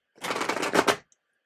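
A deck of tarot cards being shuffled: a close, dense riffle of rapid clicks lasting under a second, ending in a brief final flutter, then quiet.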